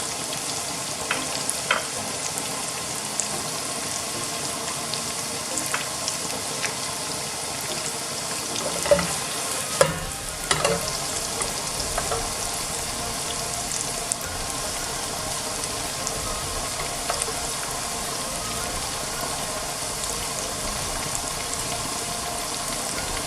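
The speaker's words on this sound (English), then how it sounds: "give a couple of seconds to garlic get a little bit golden brown" Garlic fries in oil in a pan over high heat with a steady sizzle, close and fairly even throughout. A few soft clinks and stirring scrapes sound over it.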